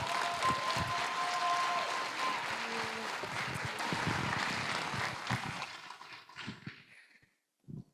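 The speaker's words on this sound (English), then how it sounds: "Let's give them another round of applause." Audience applause at an honoring ceremony for environmental champions, a steady sustained clapping from a room of people that fades out toward the end with a few last scattered claps.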